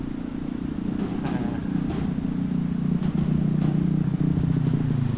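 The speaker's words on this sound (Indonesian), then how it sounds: "kita akan berhenti dulu sejenak ya, menunggu motor lewat ya" A motorcycle engine runs steadily on a winding rural road near a river in West Java, a continuous mid-loud drone holding throughout with occasional clatter, and no voices heard.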